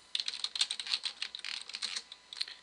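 Rapid clicking keystrokes on a computer keyboard while typing DOS commands, close and crisp, in quick irregular bursts with a short pause before a final few taps.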